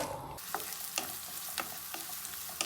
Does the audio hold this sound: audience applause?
no